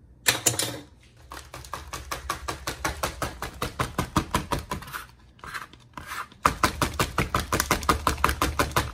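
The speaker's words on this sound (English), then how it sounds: "Chop her up with a knife" Rapid, steady chopping of lemon zest with a knife on a board, close and loud, a brisk run of sharp taps broken by a short pause before resuming.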